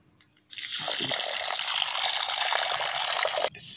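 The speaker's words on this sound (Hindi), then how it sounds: "अभी इसमें पानी डालने लगे हैं।" Water pours steadily from a tap into a large bowl of lentils being soaked for a restaurant-style dal, a loud continuous splashing rush that starts abruptly and runs for about three seconds before cutting off.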